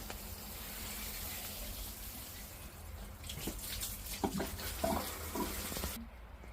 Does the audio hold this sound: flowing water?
yes